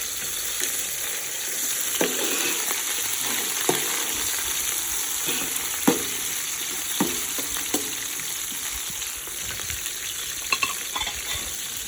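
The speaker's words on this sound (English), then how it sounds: "Then you put in your ginger garlic, the curry leaves, and your chili. Again, give it a good stir." Ginger, garlic, curry leaves and chili fry in hot oil for a beef curry, a steady crackling sizzle broken by regular sharp clanks and scrapes as the pot is stirred, close and alone.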